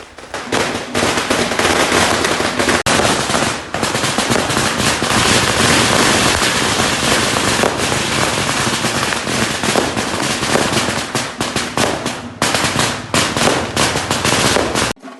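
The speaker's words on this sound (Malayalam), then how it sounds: "പോണ വഴിയിലുള്ള വീടുകളിൽ പടക്കം പൊട്ടിക്കലും കാര്യങ്ങളൊക്കെ നടക്കുന്നുണ്ട്" Firecrackers bursting along the route of a church feast procession in Kerala, a loud, dense barrage of sharp cracks and pops going nonstop, close by, with no talking.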